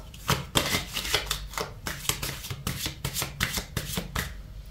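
Tarot cards being shuffled by hand, a close series of quick riffling rustles and soft slaps in irregular bursts.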